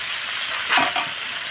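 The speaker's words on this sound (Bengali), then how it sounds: "এবার কুমড়োগুলো দিয়ে দেবো। কুমড়োগুলো দিয়েও অল্প কষে নেব।" Pumpkin pieces fry in spiced oil for a village-style pumpkin curry, giving a steady close sizzle with a brief louder burst of stirring midway.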